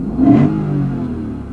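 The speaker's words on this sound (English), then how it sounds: "if you dump this into neutral and blip the throttle like this" A Lexus RC-F V8 shifted into neutral gets a single throttle blip, a loud close engine rev that swells quickly and then settles into a steady, slowly fading idle rumble.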